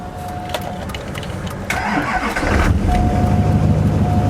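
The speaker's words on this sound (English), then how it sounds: "It started the truck." A truck engine cranks briefly, then catches and settles into a steady, loud idle after a jump start from a NOCO GB150 lithium jump pack. No one speaks.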